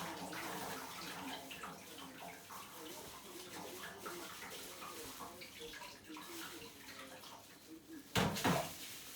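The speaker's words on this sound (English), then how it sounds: "see all the water coming out?" Steady running water splashes continuously in a sink while spinach is washed, with a louder burst of splashing near the end.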